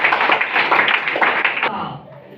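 An audience at a business talk breaks into dense, close applause that lasts under two seconds before dying away, with a voice heard alongside.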